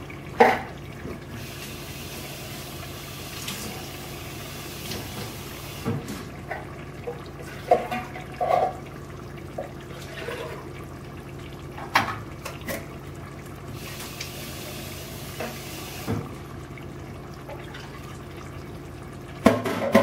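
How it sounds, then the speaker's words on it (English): Water swirls and sloshes inside an emptied tomato can as it is rinsed out, with soft, irregular splashes and clinks running steadily in a quiet kitchen. "you can't waste what's in the bottom of the can, so we always rinse them out"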